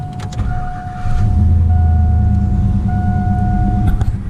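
A 4.8L V8 engine in a 1999-2006 Chevy Silverado 1500 pickup cranks and catches around the one-second mark, then settles into a loud, steady low idle, with a faint electrical whine throughout.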